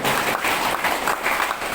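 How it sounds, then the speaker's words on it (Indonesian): A crowd applauds loudly and steadily, dense clapping with no talk, continuing the whole time. "Bapak Ibu, kita tepuk tangan dulu."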